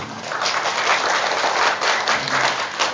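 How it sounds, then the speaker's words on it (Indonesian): An audience at a village gathering in a mosque setting claps their hands together, a lively burst of many overlapping claps rising and swelling in waves, close and fairly loud, with little talk over it. "Tepuk tangan dulu."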